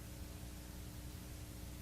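Soft, steady hiss of broadband noise fills a quiet room, faint and unchanging with no other sounds.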